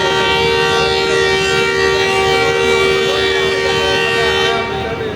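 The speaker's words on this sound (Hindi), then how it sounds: "बड़ा लाउड और लॉन्ग विसल हुआ है" Long, loud, sustained horn of a departing passenger train on a diverted route, a steady multi-tone blast holding for over five seconds close by, easing slightly at the end, with no talk over it.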